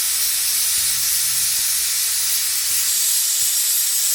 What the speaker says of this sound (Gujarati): તો મિત્રો જો હવે આપણી બીજી સીટી પણ વાગી ગઈ છે.